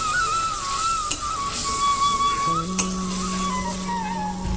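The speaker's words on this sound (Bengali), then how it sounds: "আমার মশলাটা কষানো হয়ে যাচ্ছে কারণ সাইড থেকে তেল ছেড়ে দিচ্ছে" Spiced masala paste for Afghani chicken fries in oil, a continuous close sizzle running underneath with a few light stirring clinks, and a thin steady whistling tone alongside; no one speaks.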